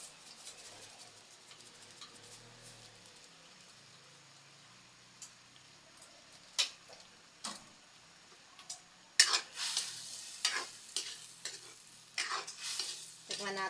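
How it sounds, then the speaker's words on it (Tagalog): Sardines cook in a pan. A faint low sizzle runs throughout, then a spoon or spatula stirs and scrapes the pan in a flurry of louder, close clattering strokes near the end. "Lulutuin lang natin ng kaunti ang sardinas"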